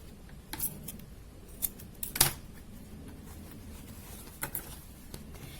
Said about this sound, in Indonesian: kita gunting cekris untuk membuat penanda tengah